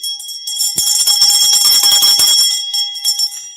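An electric alarm bell rings continuously with a bright metallic clang, loud and close, tapering off toward the end.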